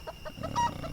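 A chicken clucks several times in quick, close, moderately loud bursts, with no talk over it.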